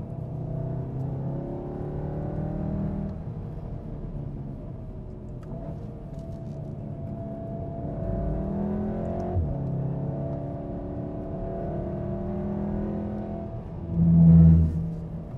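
A 2015 VW Golf R is driven on a race track, its engine note rising and falling as it revs through the gears, steady and fairly close with a brief louder thump near the end.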